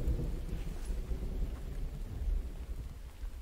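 Steady rain with low thunder rumbling in a survival video game, a dense broadband hiss continuing unbroken under a deep rolling undertone throughout, with no talking.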